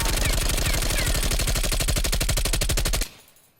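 A Bullfrog submachine gun fires in a video game on the Nuketown map: a loud, unbroken stream of rapid shots for about three seconds, then a short fading tail.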